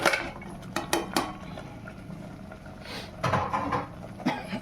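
Goat trotters tumble into masala in a metal pot, producing a few close clanks and knocks of metal and bone, then a heavier rattling clatter with quieter gaps between.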